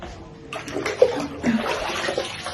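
Water runs into a large bucket at home, a continuous splashing fill with small sloshing bursts, close and fairly loud.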